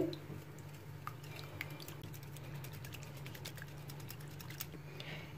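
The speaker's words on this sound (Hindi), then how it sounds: "अब हम इसको हैंड विस्क की हेल्प से अच्छे से मिक्स कर लेंगे" A hand whisk beating two room-temperature eggs in a bowl, giving rapid, steady clicking and tapping against the bowl, close up and continuous throughout.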